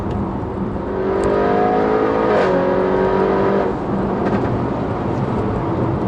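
Tuned 750bhp Audi RS6 engine accelerating hard, a loud roaring drone with a rising whine as the revs climb, a brief gear-change dip partway through, then sustained heavy power from inside the car.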